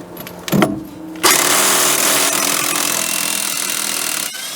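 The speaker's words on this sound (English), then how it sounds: "Using a 22mm socket, we're going to get off this bolt" A 22mm socket wrench or power tool working a bolt loose on the front suspension of a 2005-2010 Chrysler 300, a sharp knock followed by a loud, steady grinding whir that runs several seconds then cuts off.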